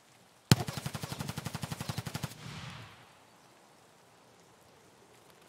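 A long automatic burst of about twenty evenly spaced rounds rips out in Escape from Tarkov, fairly close and loud, then cuts off into a fading echo and quiet outdoor ambience.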